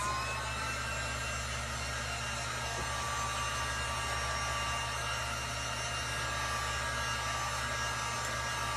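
A hair dryer blows steadily on metal pumpkin pieces, a loud continuous whooshing whine with a constant motor hum, close and unchanging, with no talking.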